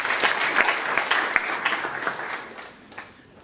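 A live-event audience applauds to welcome a presiding judge, a dense wash of many hands clapping at close range that swells and then gradually fades out over a few seconds.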